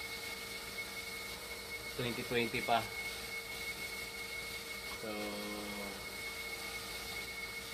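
The motor of a dialysis machine showing a flow error and a TMP problem gives off a faint, steady whine that runs underneath. Voices speak over it in short bursts.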